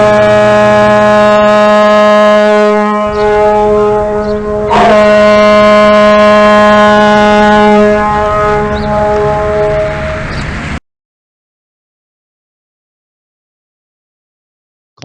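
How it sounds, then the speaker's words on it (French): A loud, sustained tonal foghorn alert siren for residents near a dam blares for about ten seconds, swelling slightly midway, then cuts off abruptly into silence. "Écoutons par exemple le système d'alerte, la corne de brume pour les personnes qui habitent à proximité d'un barrage."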